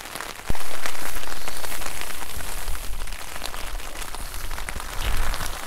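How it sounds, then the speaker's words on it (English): Rain falls on a tent at a coastal wild camp, a close, dense, steady patter on the fabric with occasional heavier drops, continuing throughout with no talking. "May as well listen to this rain"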